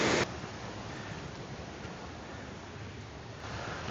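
Steady roar of rushing water from St. Mary Falls or Virginia Falls in Glacier National Park, a dense continuous wash of noise that holds level throughout with no voices.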